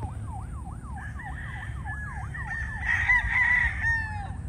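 Gamefowl on a gamefarm with a run of crows and clucks, while a wailing emergency siren sweeps up and down steadily behind them, the birds loudest near the end.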